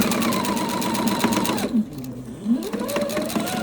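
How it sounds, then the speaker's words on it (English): A sewing machine stitching the top seam of a quilted pillow with faux chenille binding, steady loud whirring motor close by that slows and briefly pauses before running again. "And I'm going to sew right to the seam."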